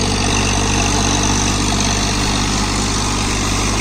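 A John Deere 3028 EN 28 HP heavy-duty compact mini tractor with a rotary tiller fitted, its diesel engine running at a steady loud idle, close by and continuous with no voices.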